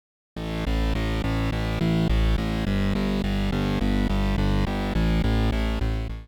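A synthesized bass line from a Korg Polysix repeats a steady, punchy rhythmic pattern, loud and continuous, with gritty distorted tones and no voices.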